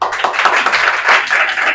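Close, lively clapping from a small audience, a dense patter of hands with no talk over it.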